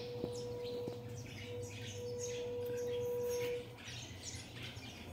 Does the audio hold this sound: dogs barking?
no